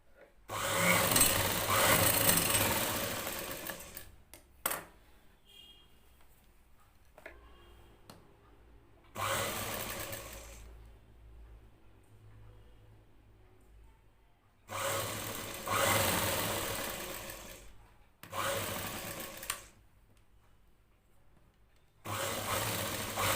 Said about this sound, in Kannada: ಇಲ್ಲಿ ಶೋಲ್ಡರ್ನಲ್ಲಿ 1/2 ಇಂಚ್ ಬಿಟ್ಟು ನಾವು ಸ್ಟಿಚ್ ಮಾಡ್ಕೊಳ್ಬೇಕು